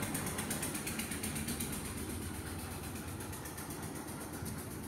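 A sewing machine stitches steadily with a continuous, even mechanical whirring and rapid clatter, close and alone without talk.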